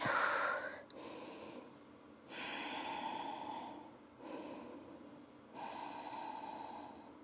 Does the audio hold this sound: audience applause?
no